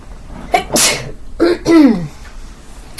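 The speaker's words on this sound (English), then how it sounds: "I gotta sneeze." One loud, close human sneeze, with a quick intake of breath and a sharp burst, followed by a short voiced trailing exhale.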